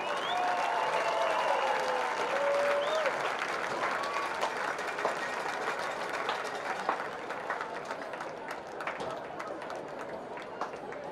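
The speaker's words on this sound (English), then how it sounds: "Please give a loud round of applause to all of our inductees." Crowd at a high school event applauds inductees at a football game, a steady round of clapping with some voices and cheers mixed in, tapering off gradually.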